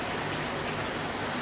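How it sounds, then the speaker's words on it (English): Light early-morning rain mixed with wind, a steady dense hiss filling the whole stretch with no voices. "we've had sort of a light rain with some wind mixed in"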